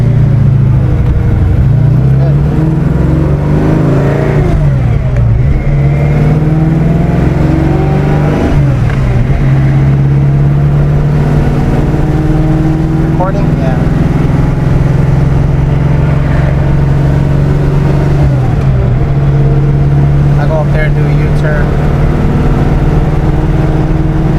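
Car engine pulling hard in third gear, likely a Ford Fairmont; a loud close sustained drone with rising pitch sweeps and a few shift dips runs throughout, with a voice talking over it at times.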